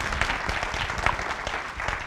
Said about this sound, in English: Well-deserved round of applause there.